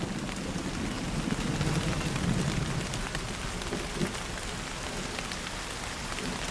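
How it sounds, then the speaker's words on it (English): Steady rain falls in a forest, a dense, even hiss of drops on leaves and ground with no break, filling the whole stretch alone and without voices. "I don't mind the rain, just like most of the other animals in the forest."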